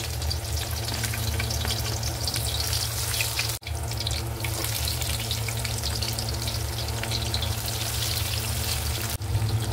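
Garlic sautés in a pan for a Filipino dish cooked at a beach resort outing in Batangas, giving a loud, continuous close sizzle with a brief dip partway through.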